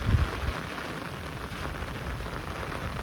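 A heavy rain downpour drums on surfaces in a loud, unbroken hiss and roar, close by and uniform, with no one speaking.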